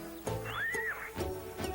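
Horses in a barn whinny with a rising and falling neigh, close and fairly clear, with a few low thumps around it.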